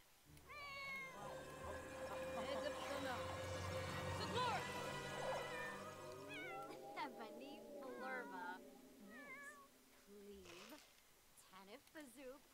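A pet cat in The Sims 4 meows repeatedly in drawn-out, wavering cries at close range, with a gap and then a few shorter meows later, while a background voice talks.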